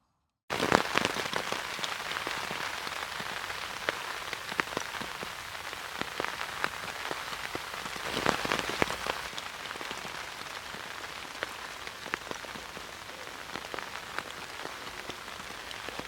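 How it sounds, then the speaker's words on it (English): Steady rain patters on a tent during a winter bikepacking trip, a dense close hiss of drops with scattered louder taps, continuous for the whole stretch with no voices. "It's raining."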